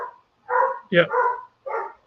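Dogs bark outside at a kid who has tormented them, four or five sharp, separate barks close by with short gaps between them.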